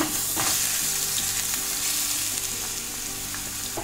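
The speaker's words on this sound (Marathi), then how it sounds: "आता त्या तुपावर मी आपण जो किसून घेतलेला भोपळा आहे बारीक, तो घालून घेते।" Finely grated pumpkin sizzles in hot ghee in a pan, a close, continuous frying hiss with faint crackles and stirring scrapes, no voices.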